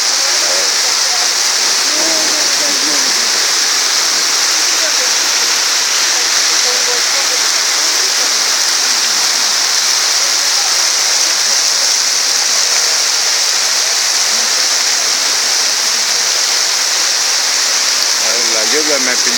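Heavy rain pours down in La Paz in a dense, constant hiss, loud and unbroken throughout, with faint voices now and then beneath it.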